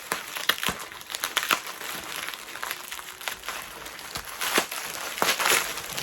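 A mail package taped on all sides being torn open, with close, irregular crinkling and crumpling of tape and packaging plus occasional sharp rips, fairly quiet throughout.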